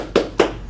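Two sharp, loud hand claps spaced evenly apart, part of a rhythmic classroom clap game, close and clear with no talking between them.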